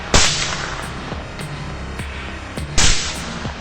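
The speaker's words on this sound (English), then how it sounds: "The relentless gunfire echoed across the field" Rifle shots ring out during a night hunt for wild boars in a field. Two loud, sharp cracks come about two and a half seconds apart, with a few fainter reports echoing in between.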